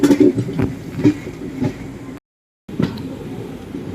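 The Ranikhet Express runs on the rails between Jaisalmer and Delhi, a steady close rumble with rhythmic clacks from inside the train, cut by a brief dropout of silence before the running noise resumes.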